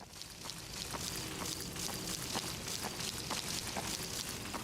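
Collecting water in a horror video game, a continuous splashing and pouring hiss with light rhythmic ripples, steady and moderately quiet, with no voices.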